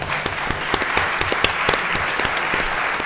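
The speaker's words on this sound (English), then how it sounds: "I would like to thank you and give you a big round of applause." A hall audience at a climate and food conference gives a strong round of applause, many hands clapping close and loud with crisp individual claps punctuating a steady roar.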